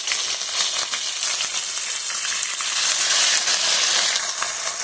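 Spices, tomato and a ginger-green chilli paste fry in a pan for a vegetable dal, giving a steady, fairly loud broadband sizzle that holds through without a break, with faint stirring scrapes and no voices.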